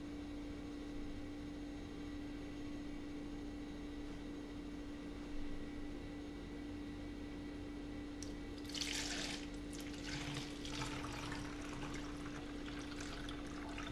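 Warm pumpkin spice latte poured from a container into a cup over a sink, a soft splashing trickle arriving late and brief above a steady background hum, faint and close.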